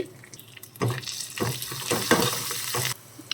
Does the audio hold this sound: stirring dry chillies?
yes